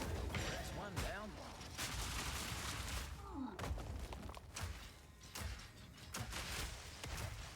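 Cluster grenade explosions from a Mercenary Grenadier in Path of Exile 2, a dense run of booming, popping blasts and thuds firing in quick succession over continuous game noise.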